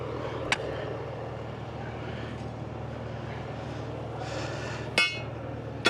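A metal rock bar strikes a big rock while digging, giving a couple of sharp, ringing clanks spaced several seconds apart over a steady low engine hum.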